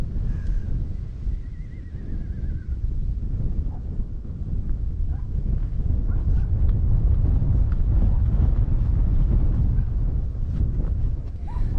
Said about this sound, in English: The wind is strong enough to push me around today